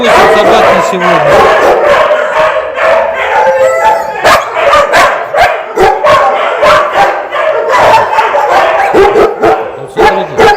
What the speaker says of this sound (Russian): Здесь 168 собак на сегодня.